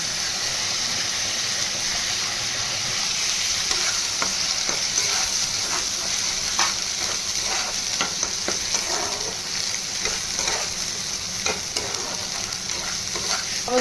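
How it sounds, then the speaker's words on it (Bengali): Melon seed paste frying in a pan for a vegetarian stuffed pointed gourd dish, giving a steady hissing sizzle throughout, with repeated scraping strokes of a stirring spoon. No one speaks. "চালমগজ বাটাটা দিয়ে ভালো করে ভাজা হয়ে গেছে।"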